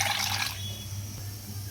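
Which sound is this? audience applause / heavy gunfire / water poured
water poured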